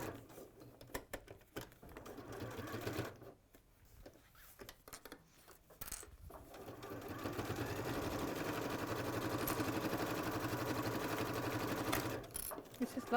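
A domestic sewing machine stitches steadily around the corners of a small fabric project, its motor buzzing close and quiet, pausing briefly at each pivot while people chat intermittently over it.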